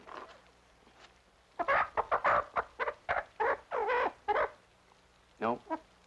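A hen clucking in a farmyard or kitchen setting, a few sharp, close bursts spaced out and then a run of quick clucks, with a second short pair of calls near the end.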